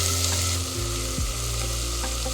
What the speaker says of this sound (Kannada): ತರಕಾರಿ ಎಲ್ಲ ಸ್ವಲ್ಪ ಎಣ್ಣೆಯಲ್ಲಿ ಫ್ರೈ ಆಗಿದೆ